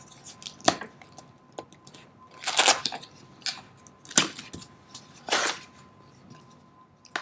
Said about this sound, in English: let's go ahead and open it and see what's inside the box